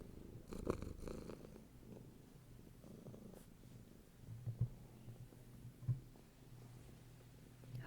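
A cat purrs softly and steadily at close range, a faint low rumbling drone with a few louder pulses, no talking.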